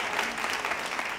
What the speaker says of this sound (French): Applaudissez pour l'amour.